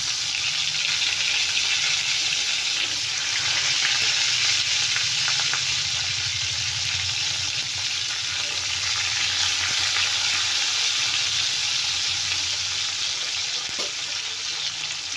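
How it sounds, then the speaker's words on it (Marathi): Tomatoes fry in oil for a chutney, producing a loud, dense and unbroken sizzle that holds steady at close range for the whole stretch. No one speaks. "त्यांचे टोमॅटो दोन तेलामध्ये छान भाजून घ्यायचे आहेत"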